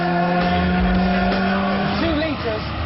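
A turbocharged 2-litre Ford Sierra Cosworth touring car races past, its engine loud and droning with shifting pitch, while someone talks over it.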